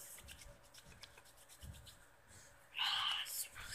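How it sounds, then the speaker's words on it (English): Hands rub lotion or cream into the skin, a soft, close, continuous swishing that stays quiet, with a brighter burst of friction near the end. "we're gonna rub it in on my hands"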